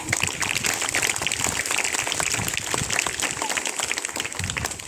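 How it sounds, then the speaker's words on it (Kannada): A school audience claps steadily and densely for several seconds during a student parliament ceremony, a continuous wash of applause from a sizable audience. "ಚಪ್ಪಾಳೆ."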